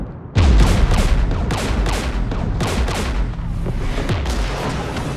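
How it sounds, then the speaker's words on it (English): Gunfire in Mass Effect 3 erupts suddenly into a loud, sustained barrage of rapid shots and booming impacts that continues without pause. "We're taking fire"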